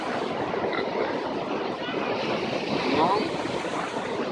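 Stormy sea surf rolls continuously onto a beach at Yevpatoria, a loud, steady roar of breaking waves with gusty wind noise across the microphone, no pauses throughout.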